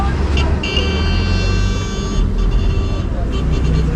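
Heavy traffic on a mountain road climbing toward Kufri rumbles steadily, with car horns tooting in short bursts over the engine noise at close range.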